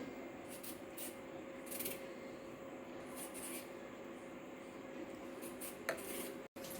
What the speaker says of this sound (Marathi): इथे ब्रेडला मी ती लाल चटणी लावून घेते